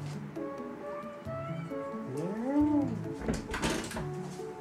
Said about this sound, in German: muss ich mal ganz kurz meinen Kater reinlassen